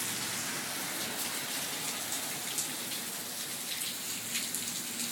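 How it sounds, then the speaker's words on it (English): Steady rain falls outdoors, a dense continuous hiss of drops on surfaces with a few brighter spatters, even and fairly close throughout, with no voices. "it's only rain."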